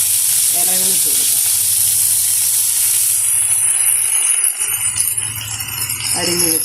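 Chopped kodithoova leaves hitting hot oil with popped mustard seeds and chillies for a thoran: a loud, close, continuous sizzle and hiss that eases slightly midway, with brief voice fragments at the start and end.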